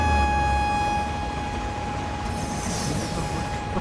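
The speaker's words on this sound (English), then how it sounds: "The train is coming." An Indian express train in a simulator game rumbles along with a low steady drone and sustained tonal hum, and a hissing swell builds partway through.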